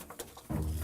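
Pigeons cooing nearby in a short burst, a soft low coo rising into a fuller, louder rumbling call toward the end, with no talking.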